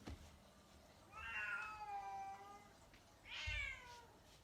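A house cat meows loudly in a home with an aquarium: one long drawn-out wailing meow followed after a short pause by a second, shorter cry, fairly close and alone.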